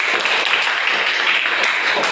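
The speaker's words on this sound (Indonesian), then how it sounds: "Oke, tepuk tangan untuk semuanya." A classroom of students applauds together, a brief but loud and dense burst of many hands clapping close by.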